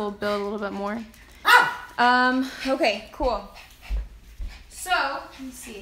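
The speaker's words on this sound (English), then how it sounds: "That's my dog, everybody." A pet dog barks and whimpers in a few short bursts at close range, with someone talking over and between the yips.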